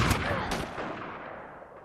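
A single sharp pistol gunshot rings out at close range, followed by a long reverberant decay that fades out over nearly two seconds.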